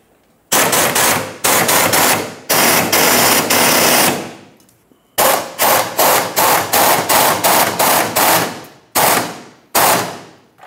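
An impact wrench tightens the fuel tank strap nut on a Dodge Ram 2500, firing loud rattling bursts: a few long runs, then a quick series of short hammering pulses, close and with no talk.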